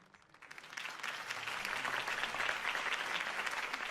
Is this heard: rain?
no